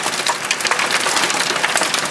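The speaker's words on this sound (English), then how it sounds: "and we get fucking hail" Hail pelting down during a July storm in Calgary, a dense, constant rattling patter of hard ice striking surfaces nearby, loud and continuous without talk.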